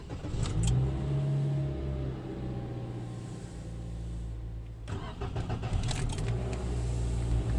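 A 2017 Toyota Etios being started: keys jangle, the starter cranks and the engine catches, then after a brief pause a second burst of cranking and revving, all close and loud with no talking.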